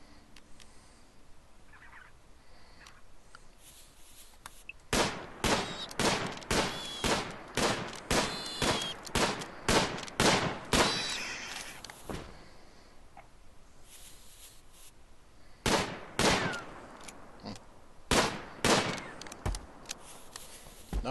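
Rapid gunfire in the Rimworld video game as colonists shoot squirrels, loud sharp shots in quick bursts and volleys with a pause between two main clusters, no talk during the shooting.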